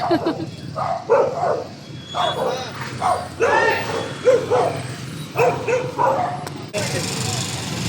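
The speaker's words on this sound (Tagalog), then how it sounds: "Ang daming aso." Dogs bark repeatedly on Blumentritt street in Manila, in short, close bursts, yapping over one another in an irregular rhythm before a brief lull.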